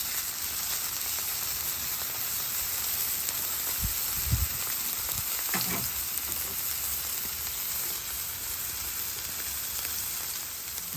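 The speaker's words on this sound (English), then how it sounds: "Bacon's cooking right up." Bacon strips sizzling on a new Weber flat-top griddle, giving a constant, even hiss of frying fat with a couple of brief low knocks, no voices.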